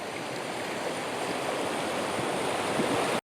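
A river full of water rushes in a steady, broadband wash near the Bendru Theertha hot spring at Puttur, continuous and close until it cuts off abruptly at the end.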